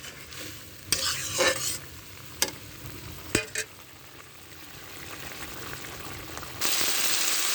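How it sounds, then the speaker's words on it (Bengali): Spice masala with tomato is stir-fried in oil, a continuous sizzle punctuated by several sharp spoon scrapes and knocks against the pan, with the hiss swelling louder near the end. "এভাবে আমি 3 মিনিটের মতো মশলা কষিয়ে নেব।"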